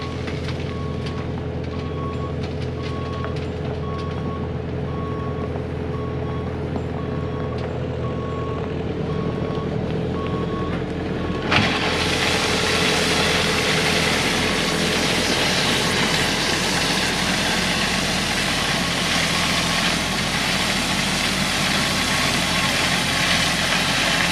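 Heavily loaded stone truck backing up while spreading rock, its reversing alarm beeping steadily over a loud engine drone that swells into a broad roar partway through.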